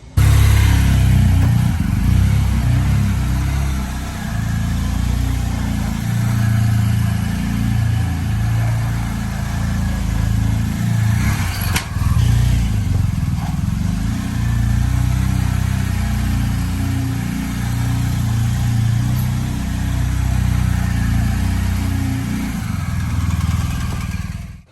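A motor vehicle's engine runs steadily while it drives in tight circles inside a home garage, a loud, continuous close rumble with slight rises and dips in revs throughout.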